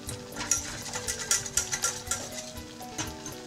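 Flour roux frying in a pan, a steady sizzle with repeated stirring scrapes at an even rhythm, close and fairly quiet with no talking.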